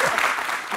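Studio audience on a French-language television talk show breaks into steady applause, a dense wash of clapping that stays loud and even throughout the brief moment.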